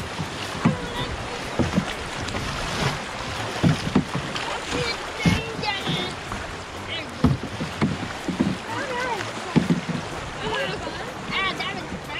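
Canoe paddling on the Shenandoah River, with repeated paddle strokes and splashes of water against the hull outdoors, under frequent voices calling out to each other.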